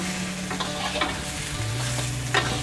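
Shukto vegetables with ginger paste sizzle gently in a little oil while a spatula scrapes and stirs the pan in a few soft strokes, heard close and quiet.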